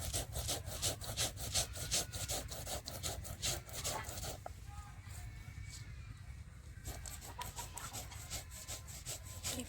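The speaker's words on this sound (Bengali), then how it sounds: "চালটা বেটে নিই।" Rice ground by hand for making pitha, a steady rhythmic rasping scrape repeated many times, close and continuous, briefly easing midway before resuming.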